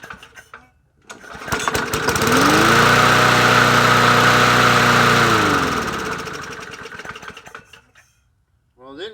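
A 20-inch Yard Machines push mower with a swapped-in engine starts up, roars loudly for several seconds at a steady pitch, then winds down and stops, recorded up close.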